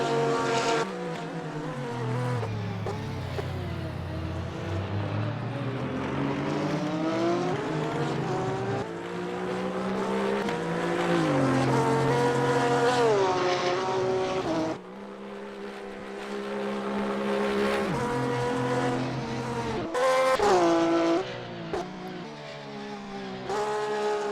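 GT3 race cars from a Blancpain GT3 Series sim race at Spa-Francorchamps roar continuously, engine notes rising and falling in pitch as cars pass close by, with brief gear-shift dips and no talking.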